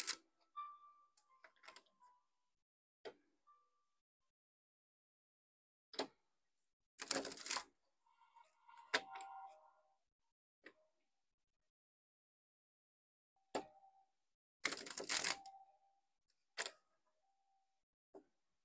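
Tarot or oracle cards shuffled on a selenite plate in a very quiet room: scattered soft taps and clicks, with two short, dense riffling bursts, and no voices.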